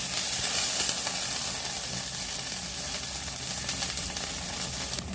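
Okra and tomato with mustard and fenugreek seeds sauté in a little oil, giving a steady close sizzle and hiss with occasional stirring scrapes.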